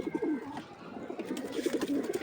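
Caged female pigeons cooing close by, low throaty rolling coos that repeat steadily with faint rustling behind.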